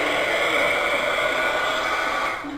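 A heat tool blowing hot air to dry craft paper gives off a steady, hissing whoosh close to the microphone, holding constant and easing slightly at the end.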